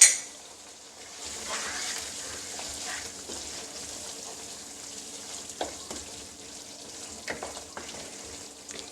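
Chicken handi cooking in ghee with salt just added, sizzling steadily while a spoon stirs and clinks against the pot, with a few sharper scrapes near the end.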